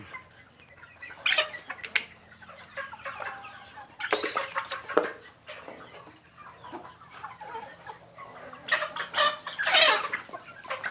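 Breeding roosters and hens kept as farm-raised village chickens cluck and squawk in bursts over a quiet yard. Several louder flurries of calls come close by, separated by calmer stretches.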